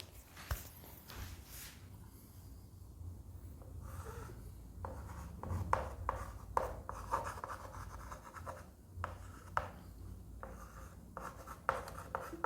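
Chalk or marker writes sentences on a board during an English grammar lesson, with tapping strokes and scratchy scribbles in irregular bursts, close and fairly quiet.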